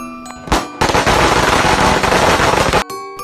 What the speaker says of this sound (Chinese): 鞭炮炸了